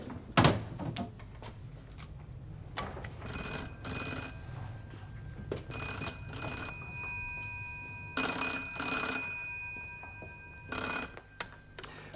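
An old telephone bell ringing in a 1972 domestic setting, several bursts of shrill ringing spaced a second or two apart, fairly close, with a few thumps and clunks between rings and no speech.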